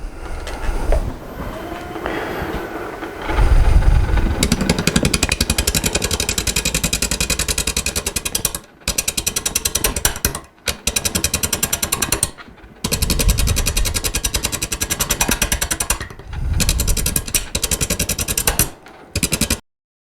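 Wood lathe turning a workpiece in a woodturning session, a loud continuous grinding, rattling drone that runs steadily and cuts out briefly several times as the tool lifts off the material, with no talking.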